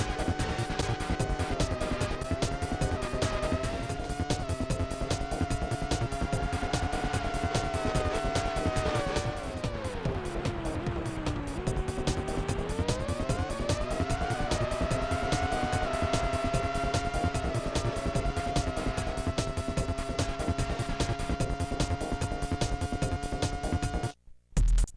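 A synthesized F1 race car engine from the N64 game F-1 Racing Championship drones steadily at high revs, its pitch dipping and climbing through gear changes and corners, loud and continuous with no talk.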